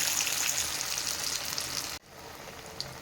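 Corn vada batter frying in hot oil, with a loud close sizzle that cuts off abruptly, then a quieter bubbling fry continues.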